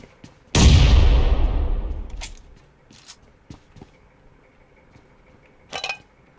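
A grenade in the video game PUBG Lite booms in a single loud blast that rolls off over a second or two, followed by scattered small clanks and a faint burst later.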